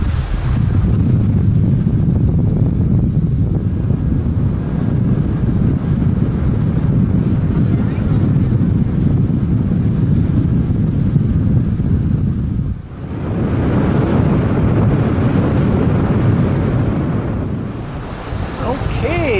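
A boat cruises over open water near Campbell River, BC, toward Mitlnatch: constant loud engine and hull rumble mixed with wind buffeting the microphone and rushing water, with a brief dip partway through and faint voices in the background.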